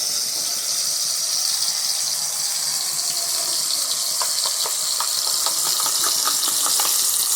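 Eggplant slices frying in a pan for an eggplant omelette, a steady close hiss of hot oil with a cluster of sharp crackling spits and pops in the second half.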